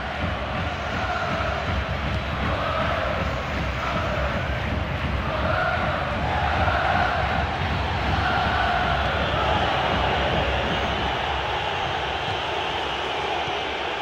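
Football stadium crowd at a Valencia v Paris Saint-Germain Champions League match reacts to a near-miss shot with a loud, steady, dense roar that holds for the whole stretch without a break.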